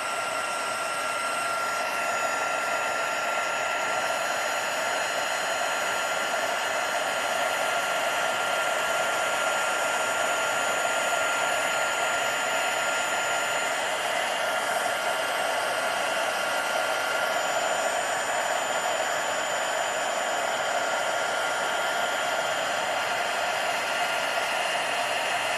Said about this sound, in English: Flip this over so I can get this side so I don't burn my fingers, because this heat tool does get very warm.